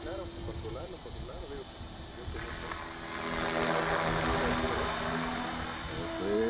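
An Align T-REX 450X radio-controlled helicopter flies nearby, its high motor whine and rotor buzz steady, then rising in pitch and loudness partway through, with people talking over it.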